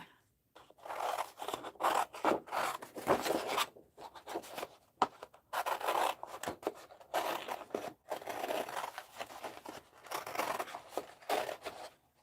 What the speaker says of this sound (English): let's cut him out